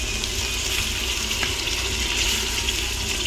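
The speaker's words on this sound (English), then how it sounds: "The oil was not quite happy about those cold onions going in there" Cold chopped onions dropped into hot oil with frying mushrooms in a pan for tomato sauce, giving a steady, close hiss and crackle of sizzling fat that runs throughout with no talking.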